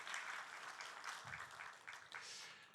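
Church congregation clapping together after a Sunday service announcement, a steady dense wash of applause at moderate level with no voices over it.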